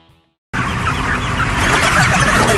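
Chickens clucking and squawking in a crowded poultry shed, a dense, continuous din of many birds close by that cuts in abruptly after a brief quiet moment.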